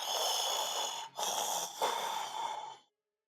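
A voice imitates the heavy breathing of an unseen creature during a tabletop roleplaying game, a loud, close, raspy breath drawn out in two or three long pulses with brief pauses, then ending abruptly into silence.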